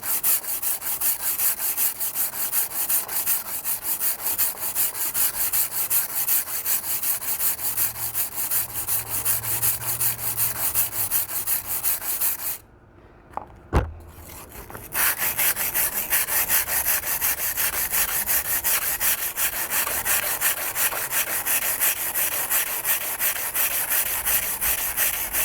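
A kitchen knife with a 3mm damaged edge and tip ground freehand on a whetstone outdoors in the wind, a loud continuous rasping scrape in steady strokes, broken by a short quiet pause with a faint knock before grinding resumes.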